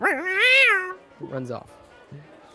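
A person imitates a cat with a long, wavering, drawn-out meow, then a few shorter voiced sounds, and brief talking follows.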